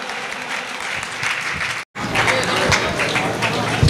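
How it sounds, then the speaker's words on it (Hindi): An audience at an Indian Jain honor ceremony claps loudly and continuously, dense applause that breaks off briefly and then resumes just as strongly. "जोरदार तालियां"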